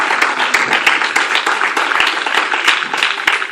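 A church congregation at a Sunday service applauds and cheers, with a steady roar of many clapping hands and voices and a few sharp, distinct claps punctuating the sustained sound.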